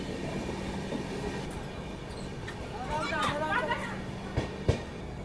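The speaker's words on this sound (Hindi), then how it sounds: "तो ये है पानीपत जंक्शन रेलवे स्टेशन और करीब 22 मिनट के डिले के साथ ट्रेन यहाँ पहुँची है भाई।" A passenger train pulls into Panipat Junction railway station, its wheels squealing in rising whines and clanking with a couple of sharp knocks under a low rumble, heard from on board with faint station noise and voices around.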